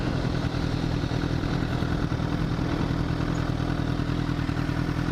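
Motorcycle engine running in fifth gear, a steady dense drone with a clattery mechanical rumble, loud and continuous throughout.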